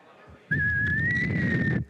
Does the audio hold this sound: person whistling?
yes